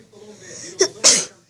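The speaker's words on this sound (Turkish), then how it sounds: "Suratıma doğru ne hapşırıyorsun?" A person sneezes twice in a row, a short first burst followed by a louder, fuller sneeze, close to the microphone, during casual Minecraft PE play.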